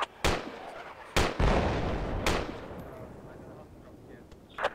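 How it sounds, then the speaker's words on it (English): Artillery fire in the military video game Project Reality: three heavy, sharp blasts a second or so apart, each followed by a rolling rumble that slowly fades, loud and close. "We got artillery on us or something."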